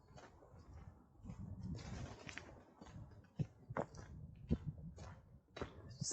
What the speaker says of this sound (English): Disturbing all the pigeons in the trees.